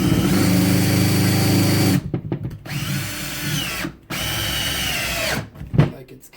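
A 12V cordless screwdriver, one of the Bosch, Hilti, Makita or Milwaukee M12 models, whirs loudly and steadily for about two seconds, then stops and starts in shorter bursts up close with no talk.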